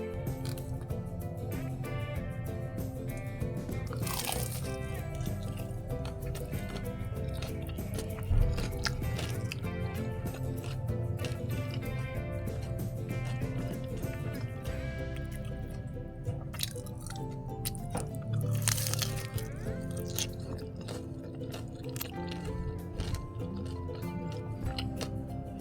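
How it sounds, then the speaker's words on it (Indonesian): Crunchy bites into crisp fried tofu stuffed with vegetables, with repeated crackling and chewing close to the mic under a steady layer of background music. "Sekarang saatnya kita testing kekeriukannya dari gorengan enak ini."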